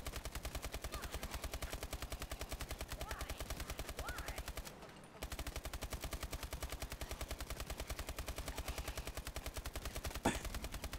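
Rapid automatic gunfire from a gun in a Descent Exo Zombies video game, a dense, even machine-gun rhythm that runs almost the whole time with one brief pause midway and a sharp bang near the end.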